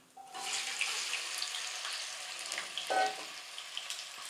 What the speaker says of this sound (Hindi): अब हमने डाल देनी है अपनी अरबी